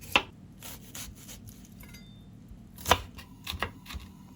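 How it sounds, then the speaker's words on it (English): An onion is chopped with a knife, giving a handful of sharp, irregular taps and scrapes with pauses between them, faint and close, with a louder knock near the middle. "We have an onion, chop it"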